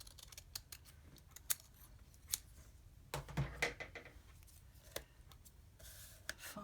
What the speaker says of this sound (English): And I've got my scissors and just cut up the centre.